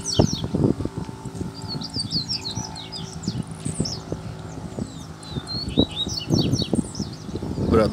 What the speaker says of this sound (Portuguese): Cantando do lado lá, o Bradock